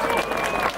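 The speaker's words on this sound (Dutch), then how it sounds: "nu wel even een heel groot applaus" Audience applause at a 2018 fireworks show, a short dense burst of steady clapping from a crowd, with a faint tonal whistle-like line running through it.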